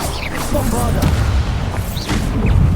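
Bombarda blasting spell in the Hogwarts Legacy video game, a loud explosive boom with crashing debris and rumbling low end, followed by further bursts and magical whooshes, with game voices over the top.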